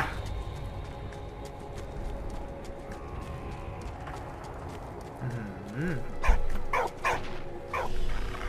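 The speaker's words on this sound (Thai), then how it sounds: "หมามันเห่าอะไรเอ่ย" Dog barking in the video game Valiant Hearts: a few sharp barks near the end over a busy game background with clopping and music, while someone talks.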